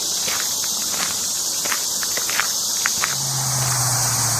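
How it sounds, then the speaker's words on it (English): Crickets and cicadas give a steady, high drone along the Erie Canal walking path, with crunching footsteps ticking over it and a low engine-like hum rising near the end. "you can hear all the nature sounds, like crickets, I guess, cicadas"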